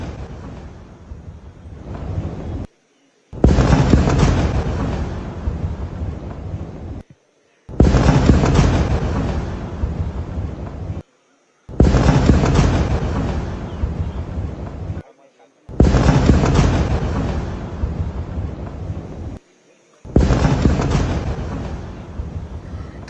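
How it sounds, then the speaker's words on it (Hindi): Repeated heavy blasts and rumbling explosions from Iran–Israel missile strikes come in five loud bursts separated by brief silent gaps, each blast booming and then tapering off. "तो धमाकों की आवाज आप लगातार सुन रहे हैं"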